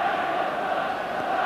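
A huge football crowd of over 53,000 fills a Glasgow stadium during a Rangers v Hearts Skol Cup semi-final in 1988, producing a steady, dense roar with no breaks.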